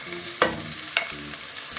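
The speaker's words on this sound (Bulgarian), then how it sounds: "Слагаме лука да се запържи" Onions frying in a pan with stirring, a steady low sizzle broken by two sharp utensil scrapes, close and moderately loud with no voices.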